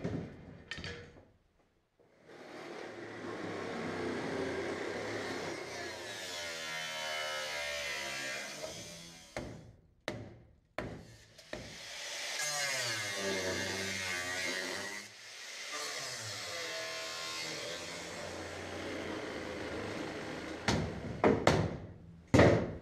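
A power tool cuts rear body panels for a Sport Quattro car project, whining in long, loud bursts that rise and fall in pitch with brief pauses and clatter between cuts.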